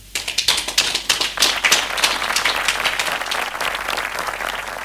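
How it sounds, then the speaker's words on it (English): A graduation ceremony audience breaks into applause, starting with distinct claps and quickly swelling into a dense, steady roar of many hands that holds for several seconds. "A round of applause for our inspirational speaker"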